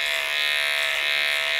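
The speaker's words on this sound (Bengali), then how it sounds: "নাম্বার ওয়ান ক্লিপ নিয়ে নিয়েছি, লাগিয়েও নিলাম মেশিনে।" An electric hair clipper fitted with a number one guard, cutting a skin fade, gives a steady, loud buzzing hum that holds unbroken from start to finish with no talk.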